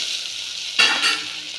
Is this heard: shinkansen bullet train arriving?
no